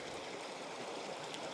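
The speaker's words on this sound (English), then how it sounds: "that water's gonna flow out in just 1 second" Water streams steadily out of a gravity water filter outdoors, a continuous close rushing trickle with no pauses and no voices.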